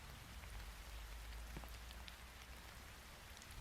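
Steady heavy rain pours in a Roblox Brookhaven game, a dense continuous hiss with a deep low rumble and scattered drop patter, unbroken throughout.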